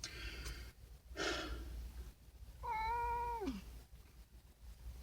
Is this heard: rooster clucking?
no